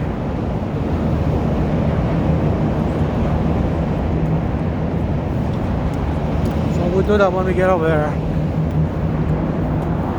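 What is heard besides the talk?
car traffic noise on Lake Shore Drive, Chicago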